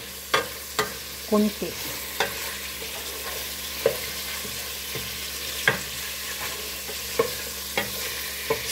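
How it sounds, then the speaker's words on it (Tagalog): Chicken thighs sautéing in hot oil for a Cypriot dish with kolokasi, a steady frying sizzle broken by sharp, regular clacks of a utensil stirring the pan, with barely any talk. "Igigisa muna natin siya"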